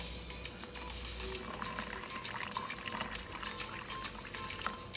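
Water poured into a thick homemade juice, producing a steady, quiet liquid pouring and trickling sound that continues through the whole stretch, with no talk.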